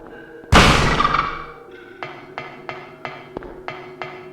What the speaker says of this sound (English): the rhythmic thud of our footsteps